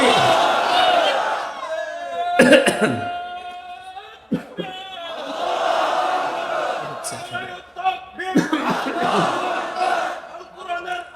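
A large outdoor crowd in Cox's Bazar roars back a takbir chant, with loud massed voices surging in waves and a leader's amplified call and a few sharp bangs breaking in between.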